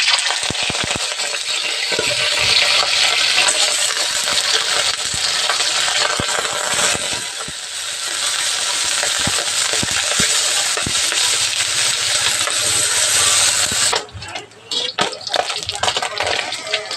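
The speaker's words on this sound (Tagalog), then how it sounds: "Cooking oil. Iprito po muna natin." Aloy fish fries in hot cooking oil, a loud dense crackling sizzle that holds steady for most of the time, then drops sharply into broken, spattering bursts near the end, no talking.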